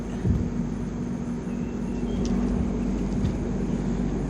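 A low, continuous rumble with a steady hum of a train passing at a distance, holding level throughout.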